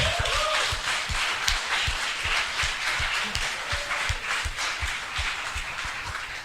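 A church congregation gives Jesus a strong round of applause, a dense wash of clapping with steady rhythmic beats running throughout, moderately loud and without clear talk.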